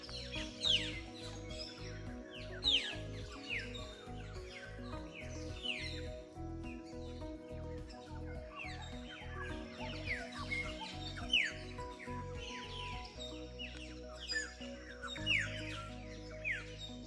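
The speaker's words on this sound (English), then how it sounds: "but you can hear the birds all the time." Many birds chirp and call continuously in rainforest at Mowbray National Park, Queensland, with bright overlapping calls at moderate distance over a steady low rhythmic hum.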